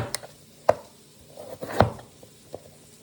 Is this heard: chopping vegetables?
yes